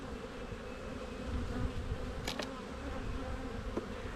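Honey bees buzz inside an open hive, a dense, steady droning hum close by with individual bees whining past now and then.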